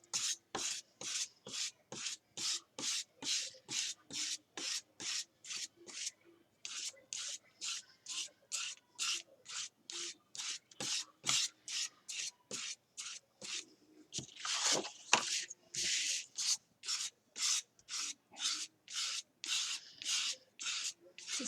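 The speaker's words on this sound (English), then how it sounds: "I'm going to use this squeegee tool just to spread it out so that it's nice and thin" A squeegee spreads paste thinly over a craft layout, making a long, steady series of close, rhythmic rubbing strokes with brief pauses between them, all at a soft, even level.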